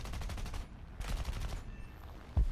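Bursts of aircraft machine gun fire in War Thunder air combat, rapid rhythmic volleys with short pauses, loud and close, ending with a heavy thump, no talk.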